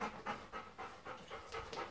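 A Golden Retriever whines and cries in repeated rising bursts, excited at the sight of its harness and eager to leave for a car ride, close and fairly loud with no talk.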